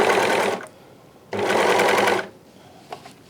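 A sewing machine stitches faux Chanel trim onto a T-shirt neckline in two loud, close bursts of whirring with a quiet pause between them.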